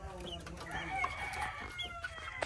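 Four chickens in battery-type cages set under banana trees cluck and call repeatedly, with a rooster-like crow rising through the middle, fairly close and steady over a low background hum.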